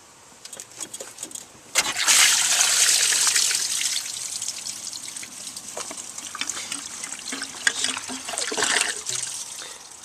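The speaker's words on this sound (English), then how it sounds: "Bottom hose dropped off, easy enough to drain the coolant out." Engine coolant draining out of a dropped-off bottom radiator hose on a Nissan Navara D21, a steady trickling and splashing stream that starts abruptly and keeps running, close by with faint outdoor background.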